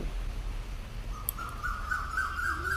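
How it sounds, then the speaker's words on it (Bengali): A single rising, whistled cuckoo call rings out at a moderate distance, climbing in pitch over a soft patter of morning rain. "কোকিল ডাকছে, দেখুন কি সুন্দর"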